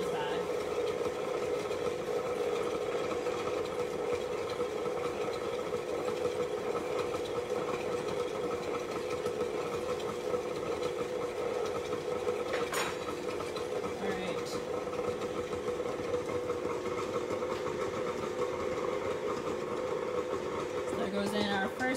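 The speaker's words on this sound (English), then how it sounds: "we're going to put in 4 cups of powdered sugar into our mixer" A stand mixer runs on low speed, beating powdered sugar frosting with a steady droning whir and rhythmic buzz throughout, with occasional clinks.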